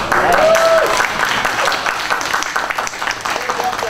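A convention audience applauds a Star Trek trivia tournament prize winner with continuous clapping, loudest at the start and easing off, while a voice speaks briefly over it.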